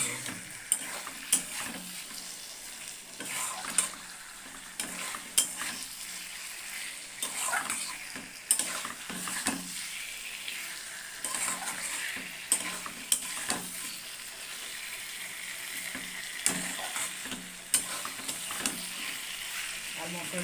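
Spice paste for koi fish curry frying in a pan, a quiet continuous sizzle with occasional scraping stirs and soft clatters, faint and close.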